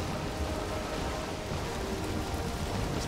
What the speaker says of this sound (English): Rain's subsiding.